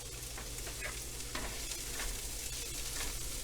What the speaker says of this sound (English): I'm going to add the rice and stir that in and fry that up a bit